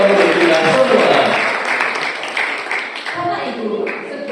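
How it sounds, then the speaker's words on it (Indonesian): Applause from a crowd at a Javanese traditional wedding ceremony staged as a school culinary class event, a dense burst of clapping that gradually thins, mixed with voices and talk in the hall. "Mari kita beri tepuk tangan yang meriah untuk kita semua."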